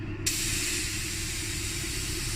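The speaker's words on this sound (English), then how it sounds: "We're going to be spraying NC dip onto there." A steady spray hiss of NC lacquer being sprayed onto a plastic hard helmet starts abruptly and continues evenly, close and fairly loud, over a low background hum.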